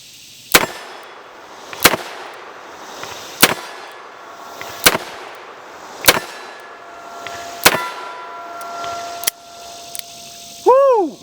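An SR-38 .357 Magnum steel-frame revolver firing Winchester Silver Tip rounds: about seven loud, sharp shots spaced roughly a second and a half apart outdoors, followed by a brief ringing tone at the end.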